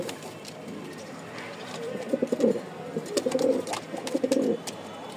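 Pigeons, including Danish pigeons, coo repeatedly in low, throaty bursts, several birds close by at a pigeon sale in Mirpur-1, Dhaka, with a steady background murmur and occasional clattering.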